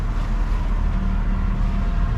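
A motorboat engine drones steadily at close range, a dense low rumble with wind and water noise, while following a pilot boat through coral-studded waters between Spanish Wells and Harbour Island; no voices.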